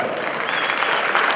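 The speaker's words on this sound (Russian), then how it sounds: "Ваши аплодисменты, дамы и господа." Loud, dense applause from the crowd at a DRAKA combat-sport fight night in a ring, a continuous wash of many hands clapping, steady and close.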